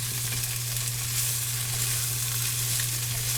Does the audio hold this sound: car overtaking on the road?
no